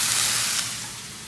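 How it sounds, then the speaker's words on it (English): Tap water running while hands are washed, a brief close hissing spray that fades slightly toward the end. "I wash my hands."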